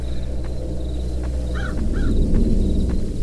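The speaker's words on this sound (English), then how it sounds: "there's a damn crow here now?" A crow caws twice, sitting mid-distance in a Captain Crunch horror video game, the short harsh calls close together over a steady low ambient drone.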